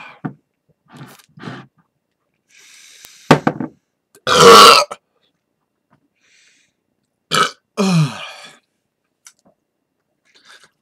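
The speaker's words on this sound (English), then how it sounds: "it's just the burps come out weird" Someone burps after drinking a 32 oz Olde English 800 malt liquor, with one loud, close belch standing out among smaller gulps, mouth clicks and short burps, separated by silence.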